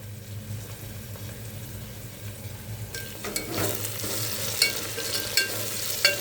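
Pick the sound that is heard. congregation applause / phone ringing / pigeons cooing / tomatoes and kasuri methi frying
tomatoes and kasuri methi frying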